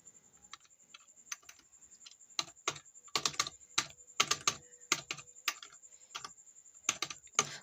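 Notes are typed on a computer keyboard in irregular bursts of crisp, close key clicks, some runs quick and dense, others spaced apart, with no talking over them.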